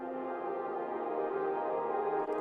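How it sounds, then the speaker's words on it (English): A swelling, washed-out synth pad, reversed, pitched up 12 semitones and drenched in reverb, drifts in a continuous smeared tone, steady and moderately loud with no other sounds. "I reversed them and pitched them up 12 semitones, so it sounds like this."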